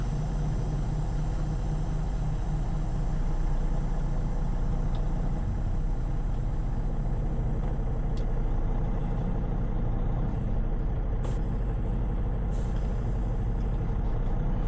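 A semi truck's diesel engine rumbles steadily and close as the rig pulls away in winter weather, with a few faint hisses and clicks on top.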